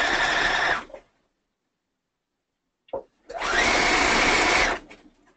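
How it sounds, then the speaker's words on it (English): A sewing machine stitching down elastic on a leotard runs in two loud, steady whirring bursts, close up, with a short silent gap and a faint click between them. "Are you sewing down the center of the elastic?"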